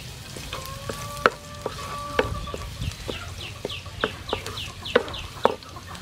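Chopped garlic frying in soybean oil for a blue crab stir fry, a steady close sizzle broken by sharp clicks and scrapes of a utensil against the pan.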